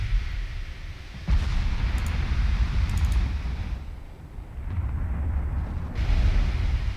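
Naval battle in Ultimate Admiral Dreadnoughts: heavy rumbling booms of ship gunfire and shell impacts, loud and continuous with sudden onsets, no talking.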